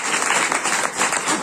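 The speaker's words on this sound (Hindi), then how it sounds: "मन्नू भैया के लिए ताली हो जाएगा।" Audience applause for Mannu Bhaiya at a spoken gathering, a steady, dense wash of many hands clapping that fills the whole moment without pause.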